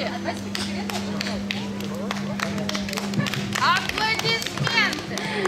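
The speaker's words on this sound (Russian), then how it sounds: "Аплодисменты!" An audience at a children's stage performance by a vocal ensemble claps, scattered, uneven applause under chatter and voices, fairly close, with a low steady hum beneath.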